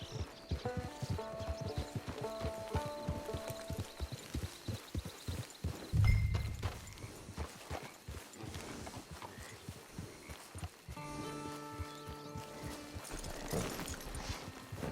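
Horse hooves clip-clop at a steady walking rhythm in the Red Dead Redemption 2 video game, moderately close, with a brief louder thump midway and a musical score playing underneath.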